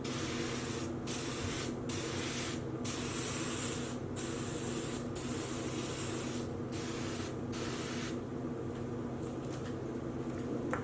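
Alcohol spraying from a spray bottle while dyeing a sock blank with food coloring: a steady, close hiss runs throughout, broken by short pumping gaps, fairly soft and alone.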